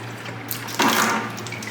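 Water pours from an outflow hose into a container while distilling white sage, a sudden gush starting partway through over a steady low hum, continuing as a rushing flow.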